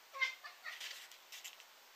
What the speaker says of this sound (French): avec mon petit chat qui miaule